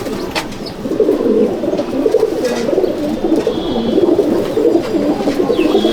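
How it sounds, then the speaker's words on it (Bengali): Pilanka pigeon cooing steadily at close range, a continuous run of soft, rolling coos through the whole stretch, with no voices over it. "এই যে বন্ধুরা এটা একটা পিলাঙ্কা পায়রা"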